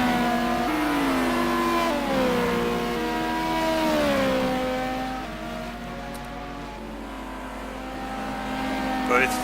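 Ferrari and Audi race cars in the simGT racing video game, engines revving with rising and falling pitch as they chase each other, heard under a commentator's talk.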